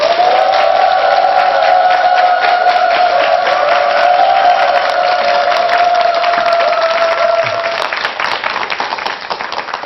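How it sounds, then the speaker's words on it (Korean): A lecture-hall audience breaks into sustained, dense applause with scattered cheers to welcome a lecturer at a Korean televised talk, loud and continuous before thinning out near the end. "뜨거운 박수로 맞아주시기 바랍니다."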